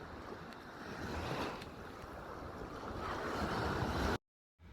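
Black Sea surf washes steadily against the shore near the Turkish border, a dense continuous roar of breaking waves with some wind buffeting the microphone, no voices, before cutting off abruptly.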